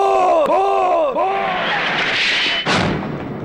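A bomb goes off in a South Indian action film: warbling, descending tones and voices give way to a broad roaring burst, then a sharp blast near the end.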